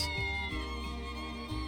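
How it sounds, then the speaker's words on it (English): A cat meows inside the Triangle Strategy video game, a short in-game cry set against steady, layered game music that fills the background. "There's a cat!"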